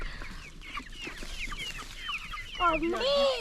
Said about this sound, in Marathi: हे माझं कोंबड्यांचं घर मागच्या वेळेस तिकडे होत्या घरात आता बाहेर काढल्यात